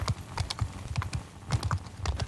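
Horse archers ride in the Mount & Blade II: Bannerlord video game, their hooves making a quick, continuous clip-clop of overlapping close hoofbeats with no talk over them.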